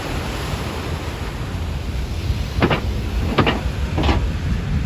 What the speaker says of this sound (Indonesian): Ombak kan gede.